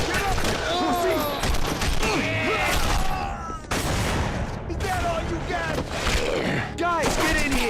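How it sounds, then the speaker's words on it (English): Gunfire from The Punisher on PS2, dense bursts of shots and rattling automatic fire crowding the whole stretch, loud and close, with shouting voices mixed in and a brief gap partway through. "The guns had some good audio, and while nothing stood out, they did their job decently"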